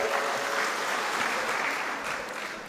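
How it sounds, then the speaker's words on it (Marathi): A crowd at a political gathering in a village claps together to congratulate Rahul and his team, a dense, even wash of applause that holds steady throughout. "सगळ्यांनी टाळ्या वाजून त्यांचं अभिनंदन करायचं आहे"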